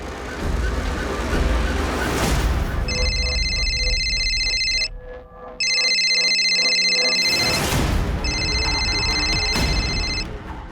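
A telephone rings on an outgoing call, two bursts of a bright electronic ringing tone separated by pauses, over a noisy background scene.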